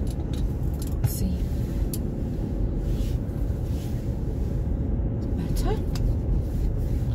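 Steady low road rumble and engine drone from inside a moving car, with a brief spoken word over it.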